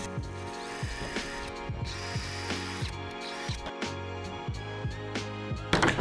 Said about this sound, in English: And I'm just gonna drill these out now.